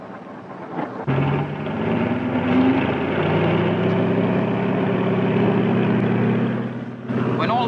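Aircraft engines run steadily on a Royal Navy carrier flight deck in 1942, a loud sustained propeller drone with a steady hum, while a narrator talks over it.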